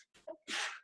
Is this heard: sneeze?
yes